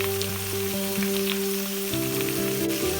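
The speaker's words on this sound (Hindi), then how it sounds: "रोस्ट करना है मटन को हमने।" Boiled mutton roasting in a pan gives a steady, moderate sizzle and light crackle under a constant mechanical hum with shifting tones, close by and without speech.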